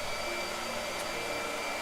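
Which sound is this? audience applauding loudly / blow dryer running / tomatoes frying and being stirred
blow dryer running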